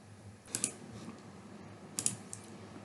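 Keys clatter on a computer keyboard in two short bursts of a few quick taps each, close and moderately loud against a quiet room hum.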